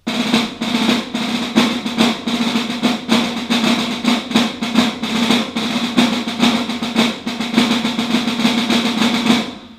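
Continuous marching-style snare drum rolls in a rhythmic pattern, loud and close, pulsing in regular accented bursts for about ten seconds without any talking.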